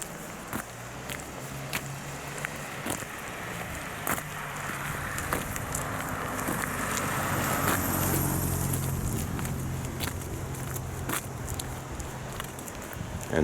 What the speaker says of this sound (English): And cars approaching.